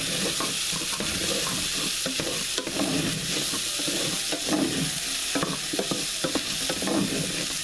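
Potatoes being stirred in a stainless steel pan with butter, a close, continuous frying sizzle with repeated scraping and clattering strokes of the spoon against the metal.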